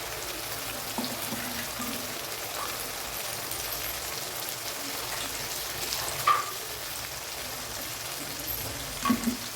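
Blended tomato paste hits a hot pan for Tamil drumstick kara kuzhambu, giving a steady, close hiss of sizzling with soft crackles throughout and a couple of louder spits near the end.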